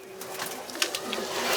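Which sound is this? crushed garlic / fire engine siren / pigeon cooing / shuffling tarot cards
pigeon cooing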